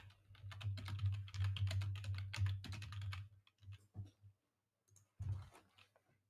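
Rapid typing on a computer keyboard, a dense run of close, crisp clicks for about three seconds, then a few scattered keystrokes and short pauses.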